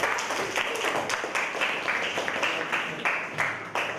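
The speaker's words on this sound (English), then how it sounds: "Clap for it" Schoolchildren in a classroom during a school inspection clap together in a burst of uneven, rhythmic hand claps, moderately loud and close, with a few stronger accents.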